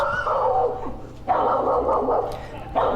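A female dog kept close to neighbours during a dog-training demonstration barks and growls loudly and almost continuously in harsh, close bursts.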